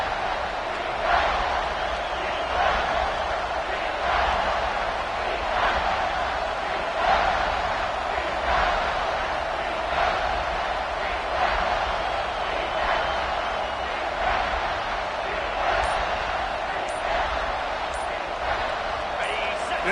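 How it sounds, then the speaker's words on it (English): A stadium crowd in an overtime football video game roars in a steady, pulsing wash that rises and falls rhythmically throughout, close and continuous. "This crowd knows when to bring it."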